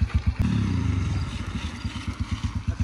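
Test vehicle's engine revving hard at full throttle on a rig testing brake rotors of different materials, a loud pulsing low drone with rhythmic clattering beats, close and continuous throughout.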